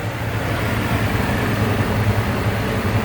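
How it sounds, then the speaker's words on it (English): A 1972 Buick Electra 225's 455 V8 engine idles fast and steady, a dense low rumble that holds constant at close range with no voices. "It's on high idle right now."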